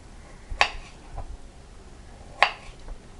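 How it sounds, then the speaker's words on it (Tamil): Knife cuts through Ooty potatoes with the skin on against a cutting board: two sharp, separate chops about two seconds apart, close and clear over quiet kitchen background. "உருளைக்கிழங்கு பொரியலுக்கு நம்ம தோலோடு தான் கட் பண்ண போகிறோம்."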